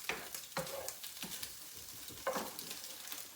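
Green-tinted ham pieces sizzle in a pan, a steady frying crackle punctuated by several stirring scrapes, close and fairly quiet, with no talking.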